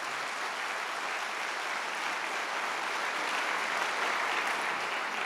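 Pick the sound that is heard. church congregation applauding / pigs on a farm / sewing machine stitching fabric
church congregation applauding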